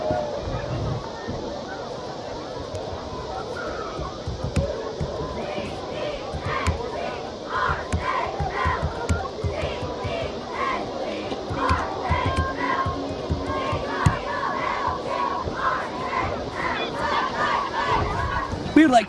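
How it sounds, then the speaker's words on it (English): A high school football crowd in the Winnetonka Griffins home stands chants and cheers during a timeout on a Friday night, with loud, rhythmic group shouts over a steady crowd hubbub. "That timeout on the field means it's time for a Winnetonka Griffin cheer"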